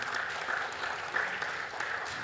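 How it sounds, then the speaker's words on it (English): Audience applause after a talk on Bitcoin payment systems, a fairly faint, steady patter of clapping from a modest crowd with a few sharper claps standing out. "A round of applause for that, please."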